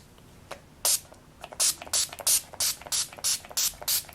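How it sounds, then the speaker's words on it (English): Quick bursts of makeup setting spray hiss out in a rapid series of about ten short pumps, close and fairly loud. "And a setting spray."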